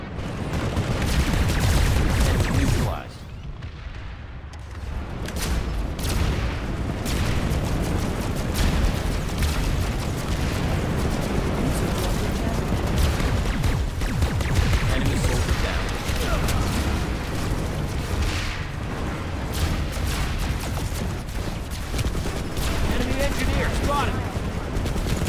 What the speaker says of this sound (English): heavy assault that can go ahead and lay down a whole bunch of explosives, drop it all into that C point